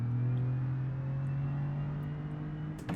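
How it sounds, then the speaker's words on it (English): A steady taxi cab engine in the BeamNG driving game idles and hums with a low, constant drone, rising slightly in pitch near the end, with no voices. "Just want you to hear this car for a minute."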